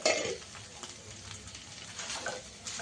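Spice paste fries in oil in a pan for a taro and prawn curry, giving a faint, steady sizzle with a few soft stirring scrapes close by.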